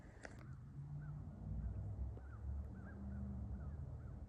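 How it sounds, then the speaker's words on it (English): American crows call while mobbing a red-shouldered hawk over a swamp in Western Maryland, giving several faint, distant, spaced caws above a steady low rumble. "So there's the red-shouldered hawk getting harassed by some American crows."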